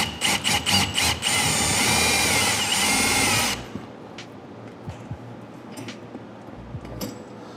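A power drill bores a pilot hole for mounting unistrut on a wall, a few short revving bursts followed by about two and a half seconds of steady, loud drilling that stops abruptly, leaving a quiet room with faint knocks.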